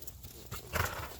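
A horse moves during a riding clinic, with soft hoof clip-clops and snorting close by over a brief stretch, fairly quiet overall.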